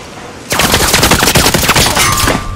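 Rapid bursts of enemy automatic gunfire in Call of Duty Warzone, loud and dense, starting abruptly after a brief quiet moment and continuing without pause as a sustained volley.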